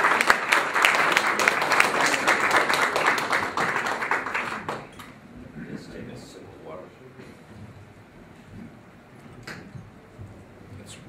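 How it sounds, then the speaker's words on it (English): Audience applause at a gathering honoring a gentleman with an order, dense clapping for about four seconds that quickly thins into scattered faint claps and a quieter room. "I think we should all applaud to this gentleman and congratulate you with this order."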